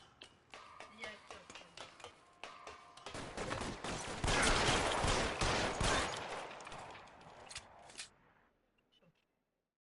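Gunfire in the crime game L.A. Noire rattles through a shootout, first scattered shots, then a dense burst of rapid firing that peaks and cuts off, with voices talking over parts of it.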